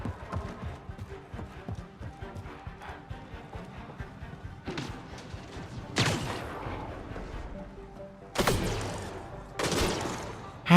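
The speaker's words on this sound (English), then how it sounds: "They're shooting her through the rocks." Gunfire cracks against rocks in Mass Effect Andromeda, a steady patter of impacts building to several loud, sharp bursts toward the end, with no voices.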